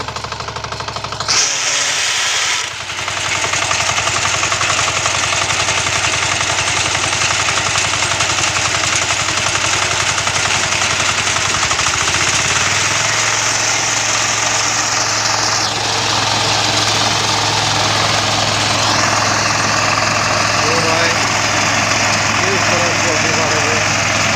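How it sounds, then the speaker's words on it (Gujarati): A wheat harvesting machine runs in the field with its front grass-cutting blades engaged, a loud continuous engine drone and mechanical clatter that stays steady for the whole stretch, its pitch shifting slightly partway through. "ઘાસ કાપવાનો આગળ જે બ્લેડો છે એ ચાલુ કરવામાં આવેલ છે"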